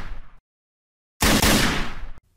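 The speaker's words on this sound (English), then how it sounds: "That sounded like gunshots" Gunfire in the video game Resident Evil: a short burst of loud, harsh shots after a stretch of silence, dense and close, cutting off abruptly.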